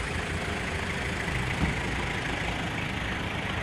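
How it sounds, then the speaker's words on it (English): Tractor trailer engine running amid hurricane damage in Jamaica, a steady low diesel rumble under broadband wind-like noise, moderately distant and continuous. "The tractor's coming."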